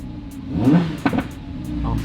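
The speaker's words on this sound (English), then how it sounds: "you can't be in a V10 and not rev it" The V10 engine of an Audi R8 with an aftermarket Soul Performance exhaust gives a quick throttle blip, rising to a loud nearby rev and then settling back toward idle.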